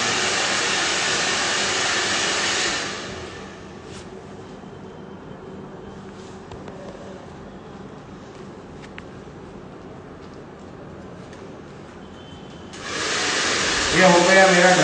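Hair dryer blowing hair at a salon, a loud steady whoosh at the start that shuts off, then a quiet stretch with faint handling, before the dryer roars back on near the end.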